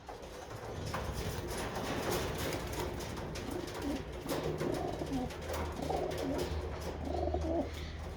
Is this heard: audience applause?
no